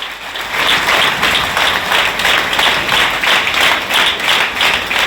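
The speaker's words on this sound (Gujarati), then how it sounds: "એમનું સન્માન કરો જોરદાર તાલીથી વધાવી દો" An audience at a live community honouring event in Kutch Vagad bursts into loud, steady applause, many hands clapping together at close range without pause.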